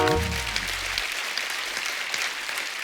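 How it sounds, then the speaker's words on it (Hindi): Studio audience applause on a TV comedy show: broad, sustained clapping that carries through, with a short low tonal sound fading out at the start. "इस बात के लिए तालियां पहले तो।"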